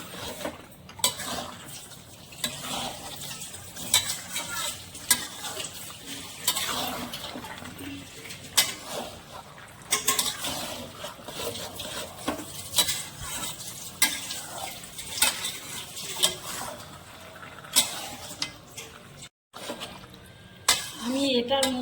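Mutton kosha being stirred and fried in a pan, with steady sizzling and repeated scraping of a utensil against the metal, close and fairly busy throughout, a voice talking over the cooking at times.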